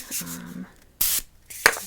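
A rosemary mint scalp spray bottle gives a quick, close hiss of mist, with a softer spritz earlier, a second sharp burst near the end and a short handling click between.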